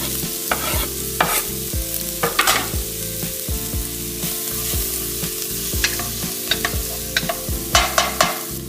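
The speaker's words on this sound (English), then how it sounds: "now I'm gonna saute this for about 5 or 10 minutes" Diced onion and finely chopped garlic saute in a pan, with a soft, constant frying hiss. Repeated scraping stir strokes ring out over a steady low background hum.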